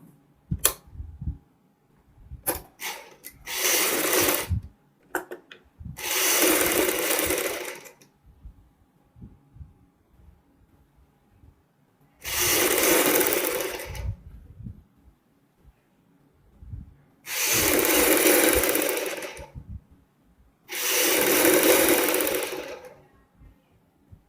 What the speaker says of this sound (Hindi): इस तरीके से गला रखते हुए बुकरम के साथ साथ सिलाई लगाएंगे।